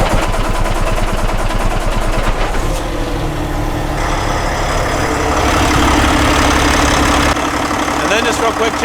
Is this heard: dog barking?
no